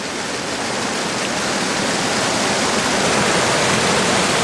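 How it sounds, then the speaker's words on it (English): Strong water current pouring out of a cave in the Peak District in deep winter, a loud, steady, continuous roar of rushing water with no pauses. "With the strong current issuing from this cave behind me"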